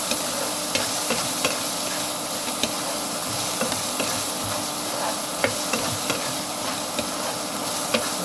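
Sautéing in a pan while cooking a simple home dish with vegetables and shrimp: a steady close sizzle and hiss with small clicks and scrapes of stirring, no talking.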